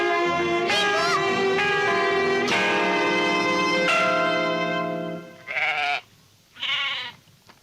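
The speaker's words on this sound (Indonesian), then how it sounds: "Jangan ambil kambing saya, Kareng." Goats bleat loudly and close by, a run of long quavering cries that overlap at first, then two shorter separate bleats, with a faint bell-like ring beneath.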